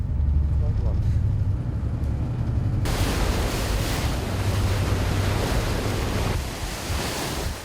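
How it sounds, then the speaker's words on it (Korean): High waves and strong wind roar around a hospital ship at sea, a loud, continuous rushing wash of surf and gusting wind noise on the microphone, with a low engine-like rumble underneath. "높은 파도와 싸우며 다음 섬으로 향하는 병원선."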